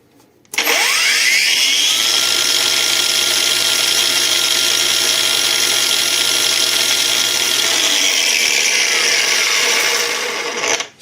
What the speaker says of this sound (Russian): у нас болгарка на второй скорости